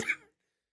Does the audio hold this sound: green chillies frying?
no